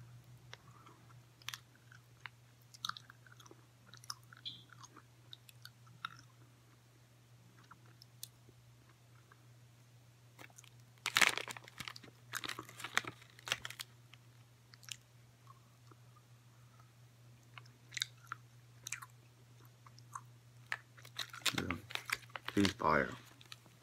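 Close, quiet chewing of Starburst and Juicy Drop candies, with soft smacking and crunchy bites that grow busier in bursts midway and toward the end, set against a low steady hum.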